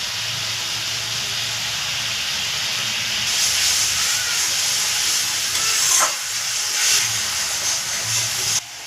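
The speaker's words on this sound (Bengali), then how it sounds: "এবার আমি হলুদটা দিয়ে দিচ্ছি।" Green chili, cumin and turmeric fry in a pan for a fish curry, giving a steady close sizzle that grows louder and hissier partway through.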